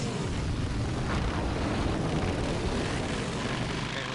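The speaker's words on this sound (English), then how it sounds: "Apparently we have a jet engine on this thing." A jet engine fitted to a motorcycle in the PC adventure game Full Throttle gives a loud, continuous broadband roar that holds steady throughout with no breaks.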